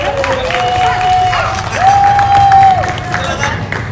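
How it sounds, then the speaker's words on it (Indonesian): Audience at a university lecturer research forum applauding Dr. Husaini as he is welcomed, loud crowd noise with clapping and chatter, while a steady tonal whine rises and falls twice through it. "Silakan berikan tepuk tangan yang meriah untuk Bapak Dr."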